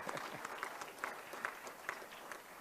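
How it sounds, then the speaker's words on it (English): An audience at a conference on youth employment in food systems and agriculture gives a round of applause to the event's judges. The clapping is faint and distant, a light, scattered patter that keeps an even rhythm for a few seconds. "Round of applause, please."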